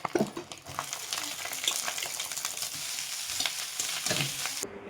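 Leftover rice is stir-fried in a pan with fried egg and onions, a steady close sizzle broken by scraping and stirring clatter throughout, with no talking.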